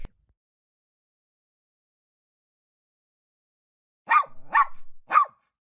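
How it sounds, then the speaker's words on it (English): A dog gives three sharp barks in quick succession, fairly close and clear, after several seconds of silence. "he heard a bark"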